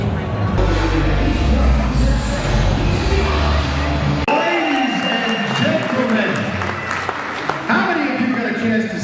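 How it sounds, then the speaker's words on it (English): Sustained applause from a large crowd fills the space, with a commentator's voice talking over the clapping throughout. "It's just a sound of applause out there."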